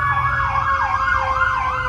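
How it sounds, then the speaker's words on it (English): An ambulance siren passes along a Brooklyn street, a loud, steady wailing that rises and falls in regular sweeps over low traffic rumble. "There's an ambulance going by."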